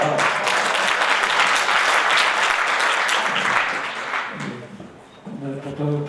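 Audience applause at a community gathering in Poland, a full, loud burst of clapping from a crowded room that holds steady for several seconds, then fades as a voice begins speaking.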